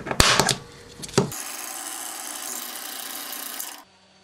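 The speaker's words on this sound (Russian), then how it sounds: "Сверлю отверстие и нарезаю в нем резьбу М3." Metalworking on a small aluminium plate, drilling a hole and then tapping an M3 thread, heard as a few loud close scraping, rasping bursts in the first second and a half followed by a steady high whirring grind that runs for about two seconds before stopping.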